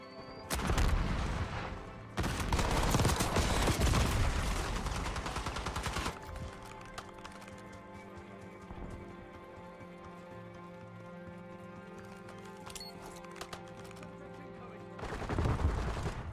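Gunfire in a video game shooter: dense, loud automatic bursts in the first six seconds, then a quieter stretch of game ambience and tones before another burst of shots near the end, with no talking.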